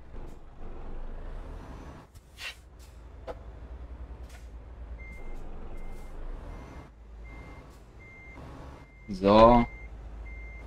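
Intermittent truck reversing beeps in Euro Truck Simulator 2, faint regular tones over a low engine rumble, with a sharp air-brake hiss near the end and someone talking briefly.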